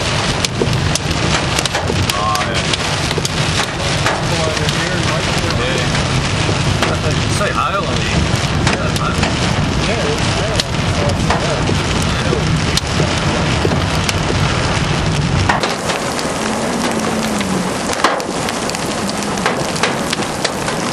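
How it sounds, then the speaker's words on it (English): Heavy rain and hail from a severe supercell storm at Singleton, a loud, dense roar of downpour with sharp hailstone impacts throughout, easing slightly near the end. "looking at a rather severe storm. I'm expecting some fairly large hail,"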